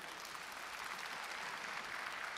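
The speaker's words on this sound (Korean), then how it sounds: "장병규 위원장님께 여러분 다시 한번 큰 박수 네" A conference audience gives a speaker a sustained round of applause, a continuous, even roar of many hands clapping throughout, fairly soft in level.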